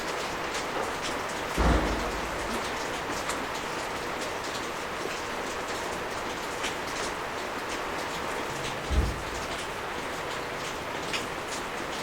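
Steady rain falls outdoors as a dense, even hiss throughout, with two soft low thuds breaking through, and no voices.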